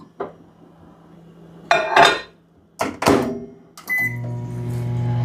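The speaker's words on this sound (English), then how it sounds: "I'm just going to put this in the microwave for like 30" Kitchen microwave oven running with gravy browning inside, a steady low hum starting partway through after clattering of dishes and a door, continuing alone to the end.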